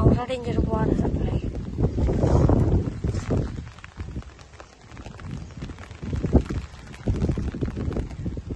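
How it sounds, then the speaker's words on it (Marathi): Strong wind blasts across a muddy shore where black crabs are caught, roaring in heavy rumbling gusts into the microphone, loud and close, with people talking over it. "हे डेंजर, एवढा डेंजर वारा सप्लाय."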